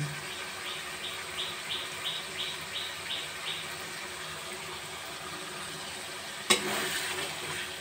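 Cumin powder, poppy seed paste and cashew paste sautéed together in a pan, giving a faint steady sizzle with a row of soft, rhythmic stirring scrapes, then a sharp clatter near the end.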